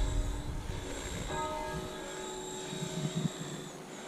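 A Blade 500 X radio-controlled model helicopter, over 10 years old, whines steadily at a distance on its first flight, its engine pitch holding fairly even with slight shifts, and no voices are heard.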